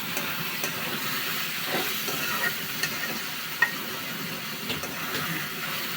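Meat for a korma with nuinna greens frying in a pan gives a steady, close sizzle and hiss, broken by a few light stirring scrapes and one sharp click, with no voices.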